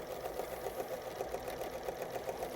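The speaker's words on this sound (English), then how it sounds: "I'm just simply using the quilting foot and I'm stitching along using a straight stitch" A sewing machine runs a straight stitch with a quilting foot, a steady fast mechanical whirring hum with an even rhythmic pulse, fairly quiet and heard alone.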